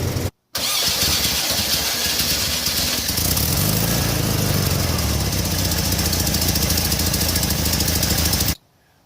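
A VW bus engine fitted with a new high-performance starter cranks briefly, then catches and runs loud and close, a rough, steady idle with rhythmic knocking that holds until it cuts off suddenly.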